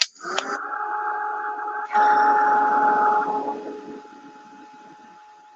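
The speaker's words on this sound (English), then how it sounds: "So I'm going to blow dry that." Heat tool blowing hot air to dry aqua colour paint on a craft project; a steady whirring blast with a tonal whine runs throughout, briefly dips then returns louder before fading near the end, with no talk.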